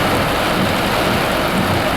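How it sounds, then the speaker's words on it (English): Heavy storm rain pours down in a dense, loud, steady roar during a severe thunderstorm under a tornado watch, with no voices. "It is a bad storm."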